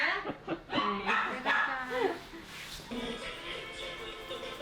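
A small dog at a pet grooming salon in Bundang lets out a quick run of close yips, barks and whimpers, with people talking softly around it.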